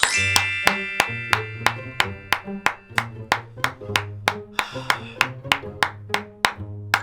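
Sharp, evenly spaced single claps ring out close and loud, about two or three per second, over a steady low hum.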